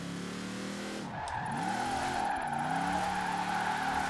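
A heavy Hummer with an open diff drifts sideways in Forza Horizon 4, tires skidding and squealing over a loud engine that dips and swells twice as the back steps out, close and continuous with no voices.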